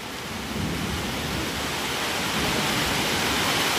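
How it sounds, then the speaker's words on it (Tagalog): Heavy rain pouring down during a May thunderstorm, a loud dense hiss with low thunder rumble that swells slightly toward the end, no talking. "Lagitik ang ulan."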